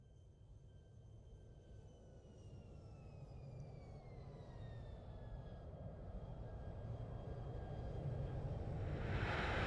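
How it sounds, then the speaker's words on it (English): A Boeing 737-800's thrust reverser spools up in a flight simulator game, a broad engine roar with a high whine that slides downward while the rumble steadily swells louder to the end. "I want to hear the reverser spooling up"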